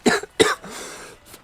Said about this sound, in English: I make myself laugh till I cough.